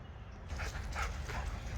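A mother dog and her puppies make soft whimpers and short yips at close range, the small cries coming in several brief bursts over a low background hum.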